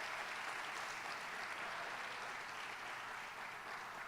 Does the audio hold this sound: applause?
yes